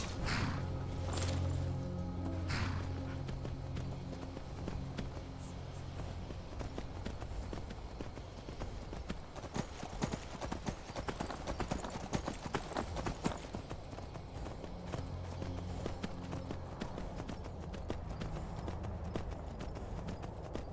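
Horse hooves clip-clop in a steady galloping rhythm throughout in the video game Skyrim, mixed with a constant low rumble of movement, fairly quiet and continuous.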